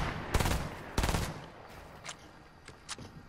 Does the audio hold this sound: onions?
no